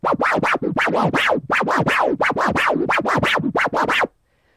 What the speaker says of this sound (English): And now the forward tear, which sounds like this.